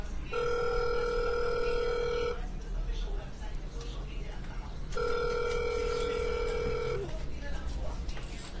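A telephone ringing in two long tonal bursts separated by a pause, with a faint dialing murmur and background noise between the rings.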